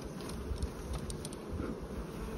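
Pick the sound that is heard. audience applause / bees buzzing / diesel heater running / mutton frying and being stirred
bees buzzing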